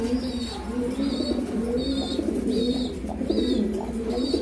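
Caged pigeons, including a pair of the Afshan breed offered for sale, coo in repeated rolling phrases about every three-quarters of a second, with thin chirps above and other birds murmuring steadily nearby.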